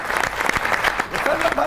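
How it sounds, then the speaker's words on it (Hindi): A studio audience on an Eid special talk show bursts into applause, brief steady clapping with a voice speaking over it. "ताली बजाते हैं।"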